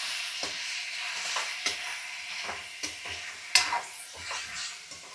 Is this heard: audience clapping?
no